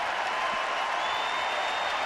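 A capacity crowd at Fenway Park during a Red Sox baseball game roars and applauds in a thick, continuous wash of noise, loud and unbroken throughout.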